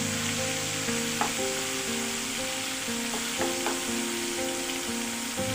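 Shrimp and bottle gourd fry in hot oil for Bengali lau chingri, a loud, continuous sizzle with a few sharp pops and faint tonal kitchen hum underneath, no speech.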